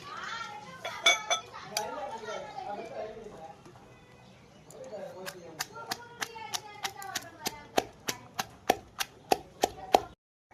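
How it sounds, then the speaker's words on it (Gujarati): Green chillies, ginger and garlic pounded into a paste for a cornmeal and bottle gourd flatbread recipe: a steady run of sharp, evenly spaced pestle strikes that grows louder toward the end, following softer clattering of kitchen utensils. "લીલા મરચા, આદુનો 2-3 ટુકડા અને લસણ ખોલી મેં ધોઈ લીધું છે। હવે એને વાટી લઈશું।"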